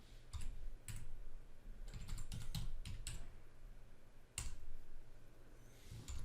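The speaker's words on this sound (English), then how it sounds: "I'm typing it, but on the screen you cannot see it." Someone types on a computer keyboard while entering input for a shell script. Irregular bursts of quiet keystroke clicks come in short clusters, with one sharper key strike near the end and no voices.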